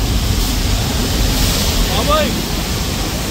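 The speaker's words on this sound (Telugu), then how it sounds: "పైనుంచి వాటర్ వచ్చేస్తుంది విపరీతంగా" Heavy water pours down from above onto riders on a Universal Studios Hollywood theme-park ride, a steady broadband rush that fills the whole clip while a voice calls out briefly.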